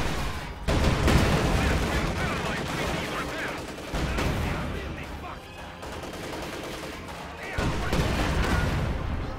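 Artillery barrage in a tank battle video game, heavy booming shots and rolling gunfire in dense overlapping bursts, loud and sustained throughout.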